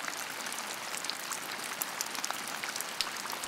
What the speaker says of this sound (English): I don't like the rain.